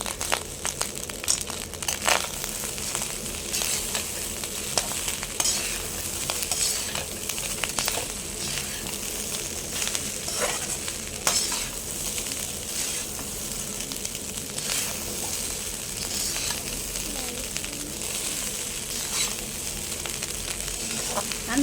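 Chicken fried rice stirred in a hot pan with garam masala, coriander and curry leaves, making a steady close sizzle broken by frequent quick scrapes and rustles of the spatula throughout.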